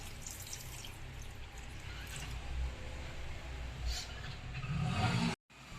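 Thick boiled milk with its layer of cream is poured into dragon fruit for a juice, giving a soft, steady liquid pour that stays faint and close throughout, with no voices.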